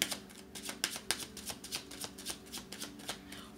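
Tarot cards shuffled before a five-card reading, a rapid series of crisp riffling snaps and slides in an irregular rhythm, close and fairly quiet over faint steady background music.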